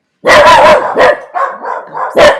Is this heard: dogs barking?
yes